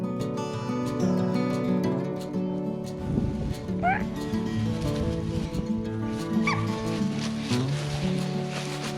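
A young puppy whimpers and yips in short, high, rising cries spaced a few seconds apart. Faint background noise and soft movement run beneath them.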